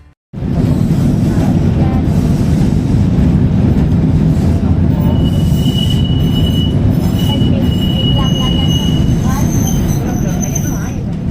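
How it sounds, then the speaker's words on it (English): Porto's historic Tram 1 rumbles steadily along its rails, its wheels squealing in thin, high, drawn-out tones over a continuous loud rolling noise, heard from on board. "so you can really hear the tram running and feel like you're right here on the ride with me"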